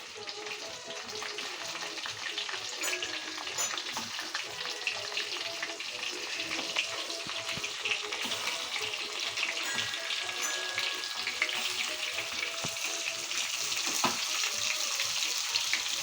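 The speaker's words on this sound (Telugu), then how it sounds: "ఇదిగోండి జీలకర్ర, ఆవాలు, కరివేపాకు వేసాం కదండి. ఇప్పుడేమో వంకాయలు వేద్దాం." Brinjals frying in hot oil with cumin, mustard seeds and curry leaves give a steady, close sizzle with faint stirring scrapes, building slightly louder over time, with no talk.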